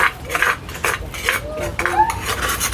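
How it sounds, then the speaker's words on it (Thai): Cabbage stir-frying in a pan, with metal utensils clinking and scraping against the pan in short irregular bursts, close by, under faint background voices. "ผัดผักกระหลำ"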